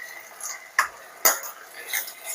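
A spoon stirs tomato garlic curry in a pan, two sharp clinks of metal on the pan among soft, faint scraping.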